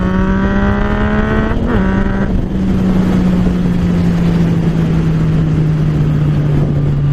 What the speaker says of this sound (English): We're gonna go second gear down to 40, all right?